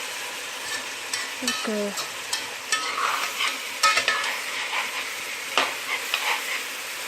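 Onions fry in a pan while being stirred constantly, a close crackling sizzle broken by repeated scraping strokes and light utensil knocks, with a brief word spoken near the start.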